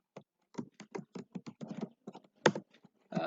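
Typing on a computer keyboard while writing in Notepad: a run of distinct, fairly close key clicks in an irregular rhythm with brief pauses, ending in a sharper, louder keystroke and a final quick flurry.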